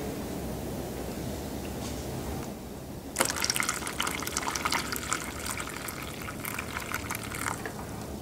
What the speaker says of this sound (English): We have to empty the water.